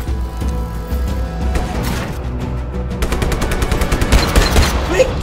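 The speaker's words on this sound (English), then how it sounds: "Look at this gun, the power of the gun." In the video game Just Cause 3, a gun fires in rapid bursts, loud and close, and the shots grow denser and more regular toward the end. Game ambience plays underneath.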